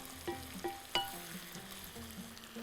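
Onions sauté in a pan with a soft, steady sizzle, a few sharp clinks of a utensil against the pan as they are stirred, close and quiet.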